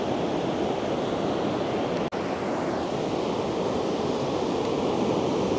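Strong surf at Lamane Beach roars in a steady, dense wash of crashing ocean waves mixed with gusting wind on the microphone, unbroken apart from a split-second dropout, with no speech.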